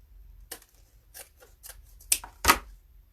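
An evergreen branch being snipped at an angle for a wreath, a run of crisp close clipping and rustling snaps, several light cuts followed by two sharper, louder ones near the end.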